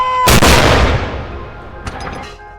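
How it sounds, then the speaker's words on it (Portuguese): A cannon of a 96-round salute across the United Kingdom honouring Queen Elizabeth II fires one loud, deep boom that rolls out and fades over a couple of seconds, with a fainter thump following. "foram disparadas 96 salvas de canhão em vários pontos do Reino Unido"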